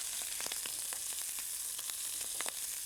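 Small croquettes fry and sizzle in a pan, a steady close crackle of hot oil with scattered sharper pops throughout, no voices.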